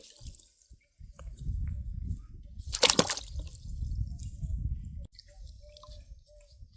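Fresh raw mangoes for avakaya pickle being dropped into water in a bucket at home: soft sloshing and splashing with a sharper splash in the middle, close by and fairly quiet, no speech.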